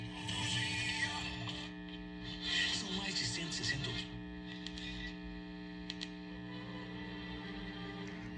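An old Philips 470 radio cassette recorder plays faintly beneath a steady low mains hum, with muffled broadcast sound and occasional small clicks.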